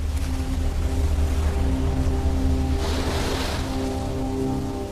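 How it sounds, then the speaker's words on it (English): Ocean surf at high tide on a Fiji coastline, a continuous loud wash of waves with a low steady rumble and a swelling hiss midway, and no voices. "Graves that once lay under coconut trees now lie under the waves."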